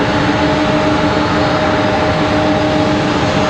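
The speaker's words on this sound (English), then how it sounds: "I think you can hear the MD over the E175, to be honest." A McDonnell Douglas MD tri-jet airliner drones loudly at an airport, its engines making a steady, dense roar with a faint tonal whine held throughout, with no voices.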